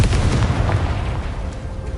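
A Confringo fire spell explodes in Hogwarts Legacy, giving a loud, sustained booming blast with a heavy low-end roar that fades slightly over two seconds.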